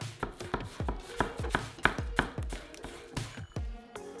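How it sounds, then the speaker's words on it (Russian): A knife slices a watermelon quickly and repeatedly on a cutting board, a dozen or so crisp, close slicing strikes in a steady rhythm. "Берем идеальную арбузную болванку и нарезаем ее мелкими слайсами."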